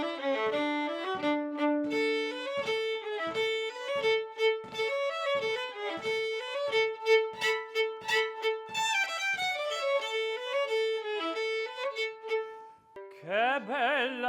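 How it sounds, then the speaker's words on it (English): Norwegian halling folk tune from Grieg's Peer Gynt, a lively melodic instrumental line with rhythmic accented notes played clearly and alone, ending in a brief different sustained passage. "In the beginning of the piece is a hulling, which is a traditional folk song"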